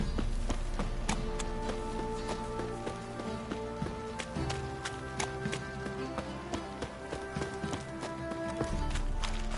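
Steady clip-clopping of horse hooves at a walking pace in the video game The Witcher III: Wild Hunt, fairly close, with faint tapping and background clatter.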